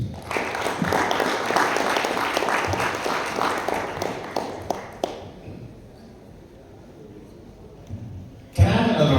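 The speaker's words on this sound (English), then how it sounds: "Can I have another round of applause for him?" Audience applause at a Kenyan business forum session after a speaker finishes: a dense, steady round of clapping fills the room for about five seconds, then fades to quiet room murmur before a single voice begins near the end.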